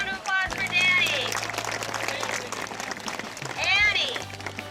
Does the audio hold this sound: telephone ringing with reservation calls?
no